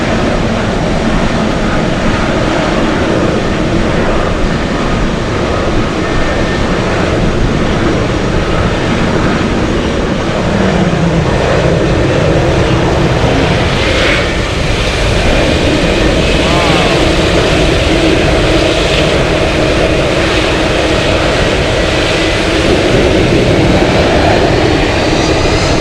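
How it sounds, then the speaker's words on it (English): Jet aircraft engines at Anchorage airport spooling down in gusty wind, a loud continuous roar with a slowly falling whine that fills the whole stretch. "they're shutting off the engines"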